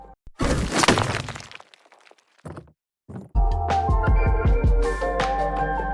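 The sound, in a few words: earth magic spell sound effect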